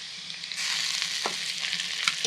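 Potatoes and onions fry in a pan with a steady close sizzle, tomatoes going in partway and the hiss growing denser, with a couple of soft utensil scrapes and no talking.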